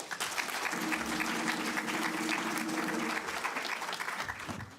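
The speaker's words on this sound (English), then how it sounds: "Can we give them a round of applause?" Loud, dense audience applause for hardworking young learners at a national school results announcement in Namibia, continuous for several seconds with a low voice murmuring underneath.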